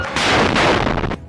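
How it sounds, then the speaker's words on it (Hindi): A loud, close blast of a rocket fired at an IDF bulldozer in combat, a heavy roaring burst followed by a second explosive impact, cutting off abruptly. "वो उसके सामने जा रहे आईडीएफ के बुलडोजर पर ये रॉकेट फायर कर देते हैं"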